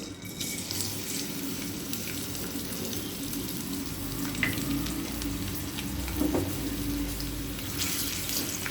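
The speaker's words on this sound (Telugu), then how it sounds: "ఆయిల్ వేడెక్కిన తర్వాత ఉల్లిపాయ ముక్కలు వేసుకోవాలి" Onion pieces fry in hot oil for veg fried rice, a continuous close hiss and crackle with a faint watery sizzle throughout and occasional small pops.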